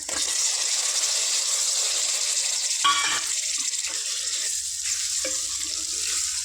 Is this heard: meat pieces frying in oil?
yes